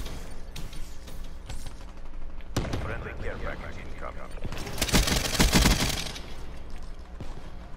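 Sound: gunfire from a gun in Black Ops 3 video game

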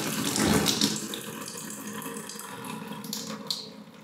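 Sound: kitchen tap still flowing a little after being closed

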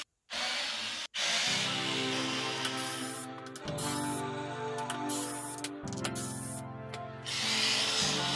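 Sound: electric screwdriver undoing screws on a Bowers & Wilkins speaker

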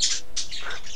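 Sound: bird sound in Minecraft video game

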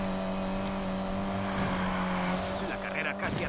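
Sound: Lancer Evolution car engines racing in a video game

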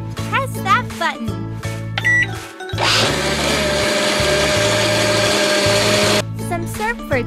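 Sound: blender running in an ice cream shop video game

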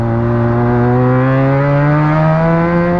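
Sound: Benelli 300TNT motorcycle engine revving, exhaust blast

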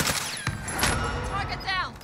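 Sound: automatic gunfire from a video game

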